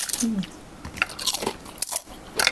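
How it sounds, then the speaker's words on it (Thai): Close, wet biting and chewing of soft pork cartilage nham, a fermented Thai pork, with crunchy, squishy bursts in an uneven rhythm and no talking. "กินเพลินเคี้ยวเพลินอ่ะ"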